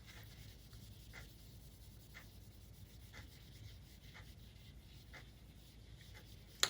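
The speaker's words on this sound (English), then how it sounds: "Let's write one more word using our k ending." A pen or pencil writing a short word, heard as faint, close scratching strokes that come in regular bursts about once a second, quiet against a soft background hiss.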